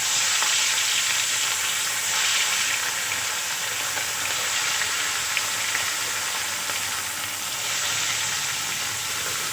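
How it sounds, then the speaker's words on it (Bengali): Fish coated in salt and turmeric frying in hot oil in a wok, a loud continuous sizzle and crackle that stays close and steady throughout. "মাছগুলো খুব ভালো করে লাল করে ভেজে নেব।"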